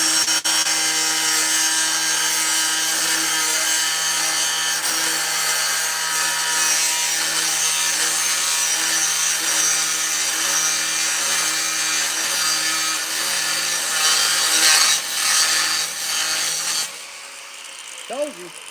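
Long, steady high-pitched grinding of a glazed, worn cutoff wheel working on a steel engine lift plate, loud and continuous under a constant motor whine, then cutting off and winding down near the end.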